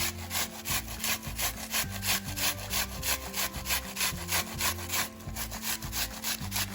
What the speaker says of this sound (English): I'm going to be grating the onion.